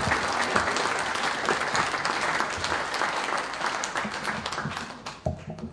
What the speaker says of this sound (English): You can tell by that applause